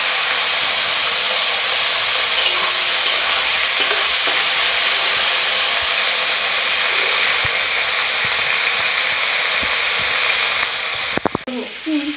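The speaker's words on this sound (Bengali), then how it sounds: "এবার আমি চিংড়ি মাছ কটা ভেজে নেবো।" Prawns fry in hot oil in a pan, a loud, dense and continuous sizzle that holds steady up close and then breaks into a few clatters at the end, with no voices.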